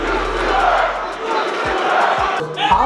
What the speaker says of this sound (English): The comments were met by boos.